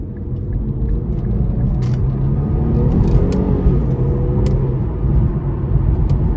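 A 2015 Infiniti Q50 Sport with a 3.7 V6 accelerates hard, its engine note rising into a steady, loud rumbling drone heard from inside the cabin, with no talking.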